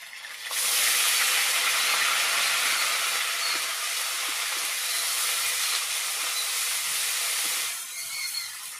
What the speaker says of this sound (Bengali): একসঙ্গে সমস্ত মশলাগুলো ভেজে নেব।